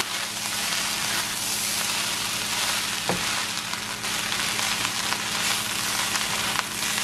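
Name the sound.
fried rice frying in a pan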